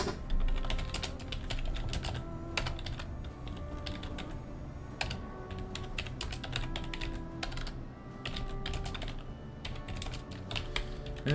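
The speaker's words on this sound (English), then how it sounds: "Let me actually show you lot what I'm typing." Rapid typing on a computer keyboard during a game session, dense irregular clicks and clacks close to the microphone, with brief pauses between bursts.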